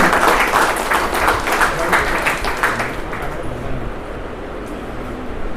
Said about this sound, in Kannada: ಎಲ್ಲರೂ ಜೋರಾಗಿ ಚಪ್ಪಾಳೆ ಮೂಲಕ ಸ್ವಾಗತಿಸೋಣ.